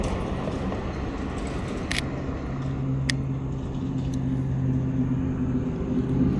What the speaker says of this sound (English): let's try to catch this blue car coming.